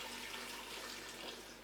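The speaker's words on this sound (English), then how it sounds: "I'm gonna add a bit of water" Water is poured into a cooking pot holding pork, onions, garlic and jalapenos, a steady, soft rushing pour with no talk, continuing at even strength.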